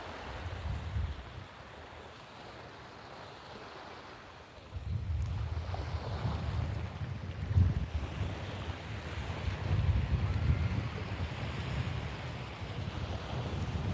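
Surf washing over a rocky beach, a steady low rumble of waves with wind buffeting the microphone, quieter at first and then swelling louder from about the five-second mark; no one speaks.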